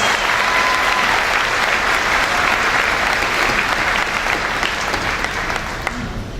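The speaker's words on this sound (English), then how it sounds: "Let's give them a round of applause and congratulate their achievements." Graduation commencement audience applauds steadily in a large hall, dense sustained clapping from a big crowd that fades slightly toward the end.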